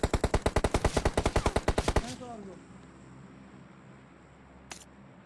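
Rapid automatic gunfire from a battle royale shooter, a steady burst of about twenty close, loud shots over two seconds, then quiet ambience with a single sharp click near the end.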